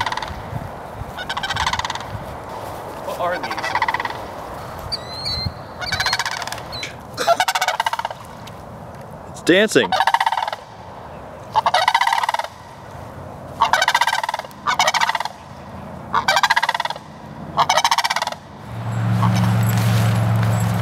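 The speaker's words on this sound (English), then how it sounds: "The noisy pair of sandhill cranes went on their way" A pair of sandhill cranes calls at a campsite near Orange City, Florida, in repeated loud, rattling bursts at steady intervals, with people talking briefly between the calls.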